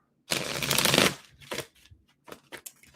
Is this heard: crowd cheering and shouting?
no